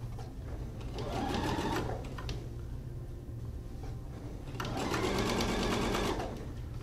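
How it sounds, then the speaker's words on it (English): A sewing machine stitches along the bottom of a fabric pocket for a makeup kit, running in two steady bursts with a quieter pause between them and a constant low motor hum underneath. "continue sewing along the bottom of our pocket"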